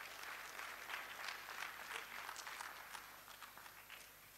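Applause from the audience at a Ghana College of Physicians annual general and scientific meeting, heard faint and distant: a dense, even patter of many hands that holds steady through the clip and thins slightly toward the end.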